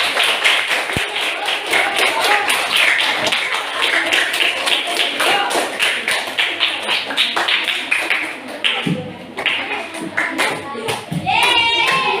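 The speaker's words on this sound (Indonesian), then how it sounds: "Tepuk tangan untuk kelompok 2." A classroom group applauds for a presenting team, with a run of close, fairly loud handclaps that tapers off after several seconds, then brief voices and scattered noise.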